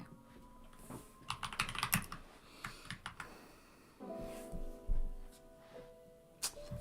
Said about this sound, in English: I like your keyboard sound, very thocky